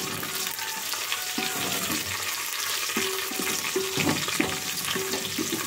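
Onions and curry leaves crackle and sizzle in hot oil for a South Indian tempering, with a steady fry broken by several sharp scraping stirs against the pan. No one speaks.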